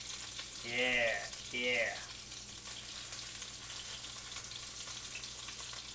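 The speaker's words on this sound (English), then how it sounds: "We're getting a nice sear on all these sides." Homemade meatballs searing in a pan give a continuous faint sizzle and crackle throughout, quiet and even, while a voice speaks briefly near the start.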